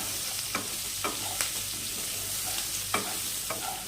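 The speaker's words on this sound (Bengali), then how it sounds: "আলুগুলো আমাদের ভাজা হয়ে গেছে।" A spoon scrapes and stirs frying potatoes and leafy greens in a hot pan, giving several distinct scraping strokes over a steady low sizzle, close up with no talking.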